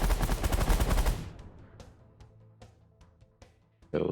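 A minigun in the space strategy game The Last Federation fires a loud, dense continuous burst for about a second, then falls to sparse scattered impacts and a faint hum before a brief loud surge returns.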